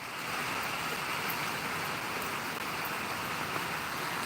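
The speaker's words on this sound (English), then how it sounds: "You can listen to the rain." Steady, dense rain falls outdoors during a storm, a continuous broadband hiss that stays even and fairly loud throughout with no talk over it.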